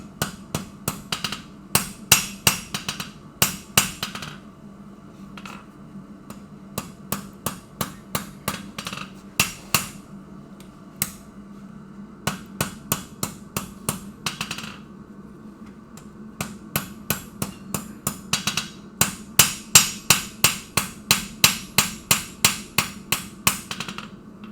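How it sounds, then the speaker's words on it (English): A blacksmith's hammer shaping hot metal, pushing it out from the middle, in long runs of sharp ringing blows at a fast steady rhythm, broken by short pauses between bursts, close and loud with no talking. "I'm going to fill that in by using a hammer to push metal from the middle out"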